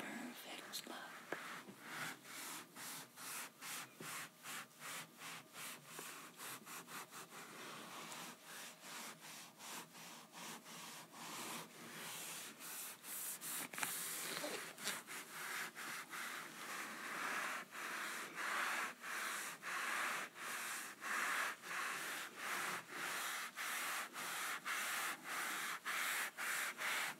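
Leather shoes being buffed to a shine with wax during a shoeshine: a quick, steady back-and-forth brushing rhythm, close and continuous throughout, with soft whispering-like breathy texture.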